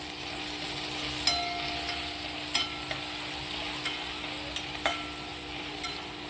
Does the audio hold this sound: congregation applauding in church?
no